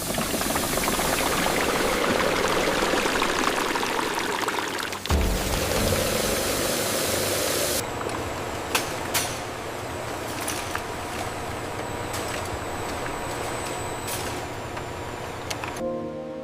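A fast air-jet loom weaving wool fabric at about 1,200 picks per minute fills a factory floor with a dense, steady mechanical roar. The tone shifts partway through, then sharp clacks and ticks sit over the constant drone.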